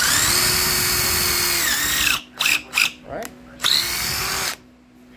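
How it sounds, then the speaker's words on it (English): An impact drill with a quarter-inch bit whines steadily, then bursts in several short revving pulses as it bites through, with a brief spoken remark between, using a Kreg jig. "I'm using my impact drill with my quarter bit."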